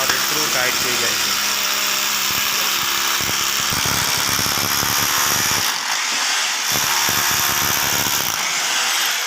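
Electric power drill boring holes in a wall for plugs while rafters are fitted at a building project, with repeated drilling bursts amid loud site noise and talk.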